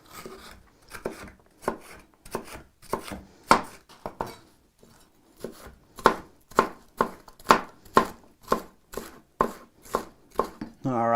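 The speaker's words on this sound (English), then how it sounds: "let's get this onion chopped up" A knife chops onion and bell pepper on a cutting board in a home kitchen: two runs of quick, evenly spaced crisp thuds separated by a short pause, close and clear.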